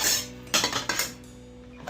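Metallic clinks and a light clatter as a lid is set onto a camping cookware pan, a few quick knocks close by.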